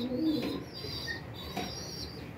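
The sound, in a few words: released pigeons cooing and flapping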